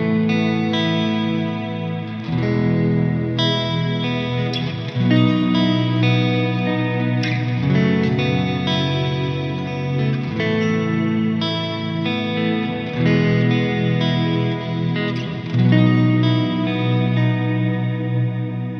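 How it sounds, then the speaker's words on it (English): Sustained guitar chords run through a Neunaber Illumine reverb pedal with modulation, producing wide, wavering, chorus-like tails that swell and overlap from chord to chord, played loud and upfront without any voices. "and on the Illumine it sounds like this."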